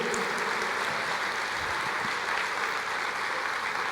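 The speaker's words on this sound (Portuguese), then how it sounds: "Pode aplaudir o Senhor" A church congregation applauds in a steady, dense wash of clapping that holds at an even level for the whole stretch, with no voices standing out.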